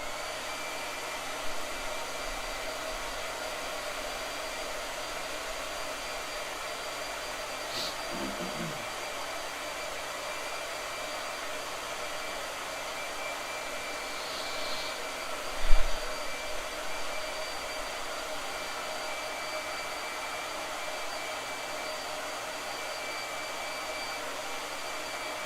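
A hair dryer runs continuously with a steady airy whir, a couple of faint bumps and clicks along the way.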